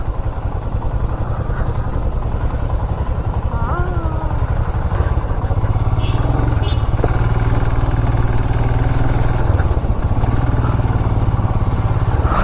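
A motorcycle rides along a badly broken rough road in East Sikkim, its engine droning loud and steady throughout with clattering bumps, while a voice talks faintly underneath.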